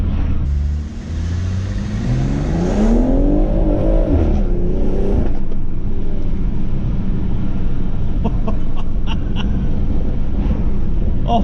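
A BMW M140i, Stage 1+ with an XHP gearbox flash, accelerates hard. The engine drone climbs in pitch through sharp, quick gear changes and then settles into a loud, steady rumble. It sounds close, as if heard from inside the car, with no talk.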